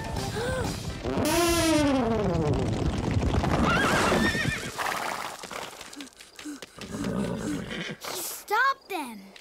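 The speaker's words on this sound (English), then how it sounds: "Looks like runaway horses." Runaway horses in a cartoon whinny loudly, their neighs rising and falling in long harmonic arcs over steady galloping hoofbeats, with voices calling out amid the commotion and further sharp whinnies near the end.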